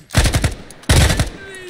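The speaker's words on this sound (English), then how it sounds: "I'm under fire!" Automatic gunfire from the tactical shooter Ground Branch rips out in two loud, close bursts of rapid shots, each burst under a second long, with a brief pause between them.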